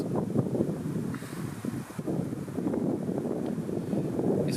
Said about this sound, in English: If you can hear the wind, I'll bring my microphone slow.